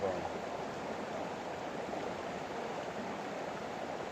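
Water rushes steadily through a gold sluice box on the Yuba River, a constant broadband wash without breaks, fairly close and even in level throughout.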